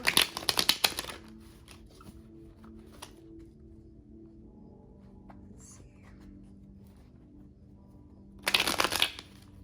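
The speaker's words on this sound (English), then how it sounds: "A good shuffle." Tarot cards riffle and shuffle in two brisk bursts, close up, separated by a quiet stretch with faint handling sounds.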